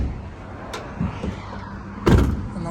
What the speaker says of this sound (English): Back here in the back, close these doors nice and easy too.